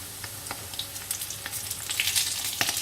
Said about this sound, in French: vous prenez délicatement les fleurs de courgette et vous les mettez à frire